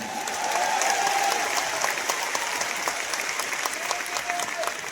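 Audience applause at a gathering, a dense sustained clapping from a large crowd that holds steady throughout, loud and close with no voices over it.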